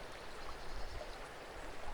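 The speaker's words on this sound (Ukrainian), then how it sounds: "Звук струмка знову стихає." A forest stream in the Carpathian mountains flowing steadily, a soft, continuous watery rush with faint gurgles, heard quietly and alone in calm woodland.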